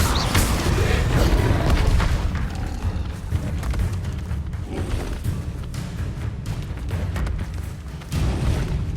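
A Confringo blasting spell explodes in the Hogwarts Legacy video game, loud booming thumps and rumbling blasts with creaking debris, repeated in bursts close up.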